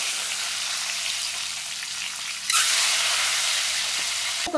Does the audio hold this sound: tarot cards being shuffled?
no